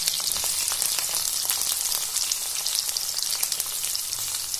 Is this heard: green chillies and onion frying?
yes